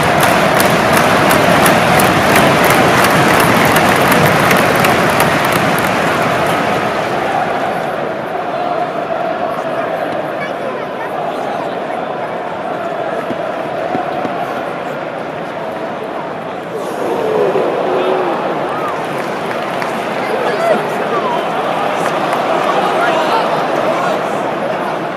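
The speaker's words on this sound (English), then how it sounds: "Crowd are really loud." Loud football crowd noise in the stands at a West Ham vs Sunderland match at Stratford, a continuous roar of voices and chanting that swells and dips, steady throughout with nearby chatter mixed in.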